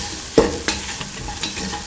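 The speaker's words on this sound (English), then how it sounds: "Thoroughly mix in the salt and the mixture spices" Salt and spices stirred into an okra and chickpea coconut milk stew, a couple of spatula scrapes and taps over a soft background sizzle, close and brief.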